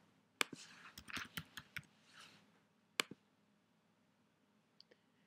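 Computer mouse clicks while working in an admin site, a quick cluster of sharp, close clicks and taps followed by a lone click and a couple of faint ticks, with quiet gaps between.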